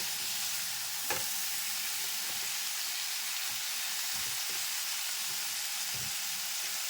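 Pumpkin and Malabar spinach sauté in a pan, with a soft, continuous sizzle under several scraping spoon strokes spaced across the clip. No one speaks.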